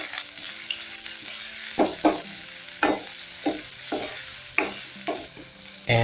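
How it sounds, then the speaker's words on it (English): Onions going into hot cooking oil in a pan, a continuous sizzle broken by about eight sharp scraping stirs at an uneven pace, close and clear, with no talking. "Once my oil is hot enough, I'll go in with my onions."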